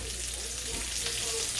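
Bacon cheeseburger patties sizzle steadily in a pan, a loud, constant hiss of frying fat with a low hum under it and no voices, all over within a second or two.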